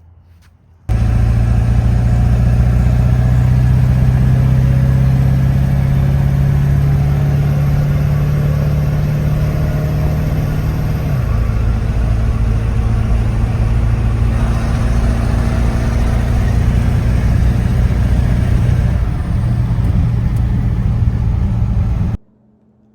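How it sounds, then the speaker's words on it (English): A truck engine runs steadily while driving home after front brake work, a loud continuous drone with a shift in pitch around midway and no talking. "As you guys just saw in the last clip, I was driving the truck home"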